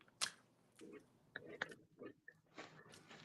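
Soft apple-flavored snacks being chewed up close in a quiet setting, with a few soft crunchy bites and wet mouth sounds spread across a few seconds, no talking.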